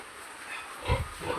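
Pigs on a farm with 72 head, a short low grunt close by after a quiet moment, followed by faint shuffling, with no talking.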